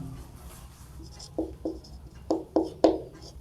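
Chalk or marker writing on a board during a class 12 maths lesson, several short scratchy strokes in quick succession, close and distinct against a quiet room.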